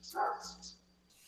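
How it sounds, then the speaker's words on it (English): A dog gives a single short bark, loud and fairly close, followed by a quieter trailing yelp before the sound fades to near silence. "Why's the dog barking now?"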